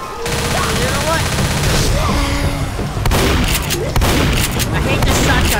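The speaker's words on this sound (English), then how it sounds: "I hate this shotgun, it's so weird." A shotgun firing in Left 4 Dead: loud, sharp blasts stand out over a chaotic mix of gunfire and game noise, with voices in the background.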